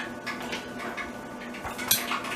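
Spoon and cutlery clinking and rattling against dishes in a kitchen while a jalapeño popper dipping sauce cooks, a brief cluster of light metallic taps with one sharper clink.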